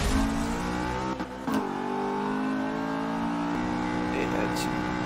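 A B-class car's engine revs steadily in a Forza Motorsport 7 race, a loud, continuous harmonic drone that shifts pitch as it accelerates, with a brief dip and a quick rev spike partway through.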